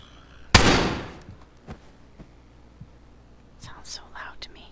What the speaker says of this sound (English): There's another explosion.